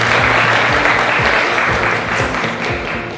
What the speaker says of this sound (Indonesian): Bagus sekali Jihan, mari kita beri aplaus.